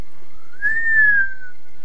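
A person whistles a single sustained rising-then-falling note lasting about a second, close and clear against an otherwise quiet background.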